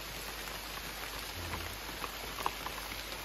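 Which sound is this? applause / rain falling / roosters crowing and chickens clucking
rain falling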